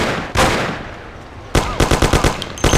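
Gunfire in the Mafia video game: one loud blast, a lull, then a rapid burst of shots from about 1.5 seconds onward, and a final cluster near the end.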